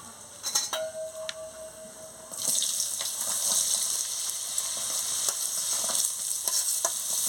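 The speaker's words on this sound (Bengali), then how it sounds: "এবার আমি সব সবজিগুলো দিয়ে দিচ্ছি কুমড়ো আলু আর উচ্ছা" Pumpkin, potato and bitter gourd drop into a hot pan and burst into a loud, steady sizzle, with scraping and stirring sounds close up and no voices.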